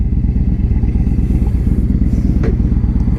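A 2015 Victory Vegas 8-Ball motorcycle is ridden, its engine throbbing in a loud, rapid, steady pulse up close, with wind noise and a brief scrape near the end.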